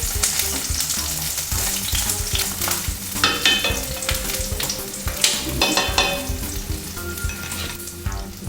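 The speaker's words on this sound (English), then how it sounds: "Saute over low heat. Until they turn aromatic." Spare-rib ingredients sauté over low heat in a pan, a steady dense sizzle with occasional stirring scrapes and clinks running throughout, close and fairly loud, with no talking.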